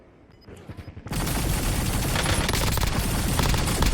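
Sustained automatic gunfire erupts in the video game Warzone after a few quieter clicks and thuds. It then runs loud and dense as a continuous fusillade to the end.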